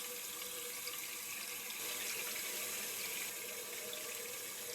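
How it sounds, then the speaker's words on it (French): Water runs steadily from a tap to rinse a makeup-removal wipe, a soft even hiss and splatter heard close by without a break for nearly five seconds. "je vais rincer un peu la lingette"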